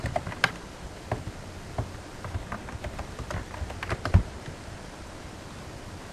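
An email is typed on a computer keyboard in a quick, uneven run of close key clicks with a few harder taps, and no talking.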